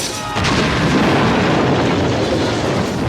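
A massive movie explosion bursts in after a brief lull, then a loud, sustained roaring rumble fills the rest of the stretch without letting up.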